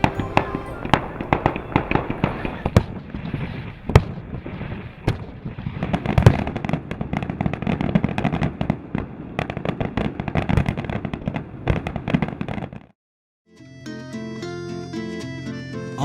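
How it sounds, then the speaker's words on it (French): Fireworks close a Madonna procession in Sicily, with dense crackling bursts and sharp bangs going off nonstop, then a brief pause before music begins. "le défilé se clôture par un beau feu d'artifice"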